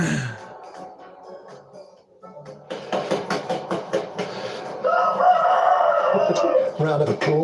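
A chicken clucks and squawks in quick bursts, then lets out a longer, louder run of calls, close by.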